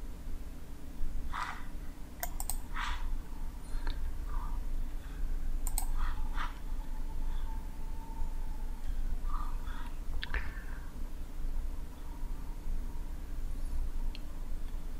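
Computer mouse clicks during AutoCAD work, a scattering of sharp, close clicks over a steady low hum, some single and some in quick pairs.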